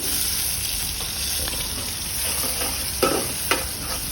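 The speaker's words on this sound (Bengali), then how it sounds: "এলাচি, দারচিনি, লং, তেজপাতা দিয়ে আমি ভালো করে ভেজে নেব" Whole cardamom, cinnamon, cloves and bay leaf fry in hot oil for beef liver bhuna, a dense, loud continuous sizzle with two light stirring knocks near the end.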